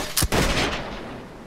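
Cannon fire in the naval battle game Blackwake, a loud, close boom with a sharp crack followed by a second blast that rolls out into a long rumbling decay.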